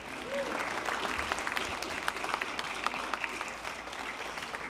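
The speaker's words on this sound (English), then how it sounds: "So another round of applause and congratulations to these outstanding cohort of students." An audience claps steadily at a university Oscars-style awards celebration, a dense, even round of applause in a hall that holds for several seconds.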